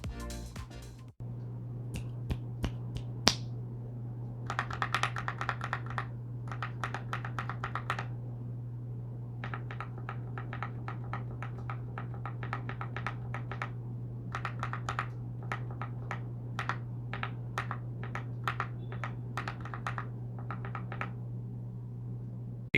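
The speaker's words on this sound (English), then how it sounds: "over on the right hand side with the S key we have the lube switch, and on the left with the A key we have the unlubed switch" Keys on a Dukharo 66 mechanical keyboard with Kailh Santa switches and AKKO Dracula keycaps are typed in bursts, comparing lubed and unlubed switches: crisp, close clacks in quick runs separated by short pauses, over a steady low hum.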